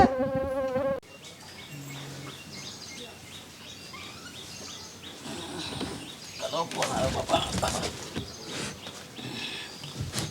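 Mosquitoes swarming in a village during the monsoon, heard as a steady high insect whine running through the whole stretch, with faint voices and rustling underneath.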